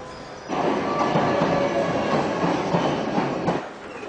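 A London Underground Olympia service train from Earl's Court runs with a steady, loud rumble and rattle of carriages, a continuous rolling drone that starts abruptly and holds throughout, with no voices.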